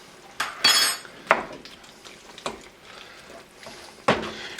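Drained rice is mixed into a chicken and wild rice casserole, with a few sharp clanks and scrapes of a utensil against the dish and soft wet stirring between them, close and intermittent.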